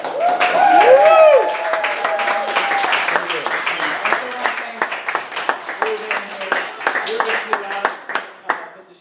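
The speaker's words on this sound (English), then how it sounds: "Let's give a big round of applause for" An audience applauds at the close of a play reading, a dense wash of clapping that thins into scattered, uneven claps as it fades, with a voice talking over it.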